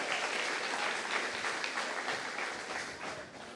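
A church congregation applauds during a sermon, a full, sustained roar of clapping from a large crowd that fades slightly toward the end.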